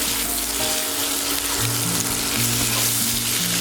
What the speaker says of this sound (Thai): เราก็จะใช้ประโยชน์จากน้ำมันที่เหลือในกระทะเนี่ยค่ะ ทอดไข่ใช่ไหมทอดไข่ต่อ